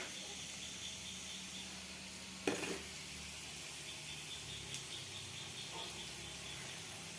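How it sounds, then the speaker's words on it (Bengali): Potatoes fry in a pan in a home kitchen, giving a faint, steady sizzle with a few light clicks and taps. "এইখানে আলু আলু ভাজা করছি"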